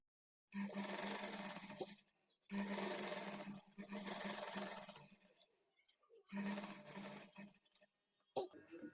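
A sewing machine runs in three bursts of steady whirring, double-stitching the side seam of a blouse, with short pauses between runs and a brief click near the end.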